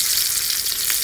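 Battered bullfrog legs frying in hot grease, a steady close, loud sizzle and crackle with no break.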